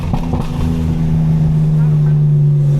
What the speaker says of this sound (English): It's my exhaust.